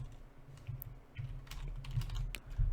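Typing on a computer keyboard during a programming session, with quick irregular key clicks and taps at close range, fairly quiet, with no talk.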